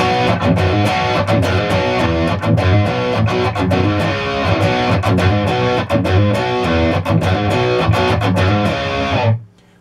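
A heavily distorted electric guitar riff played at full tempo with driving rhythm, loud and dense throughout, cutting off abruptly near the end.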